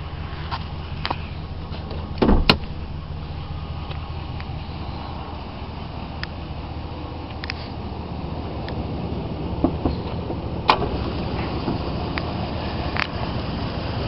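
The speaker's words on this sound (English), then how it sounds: "Very good sounding motor." A 2011 Ram 1500 Quad Cab Laramie engine idles with the hood open, a low steady rumble heard up close with a few faint clicks and knocks over it.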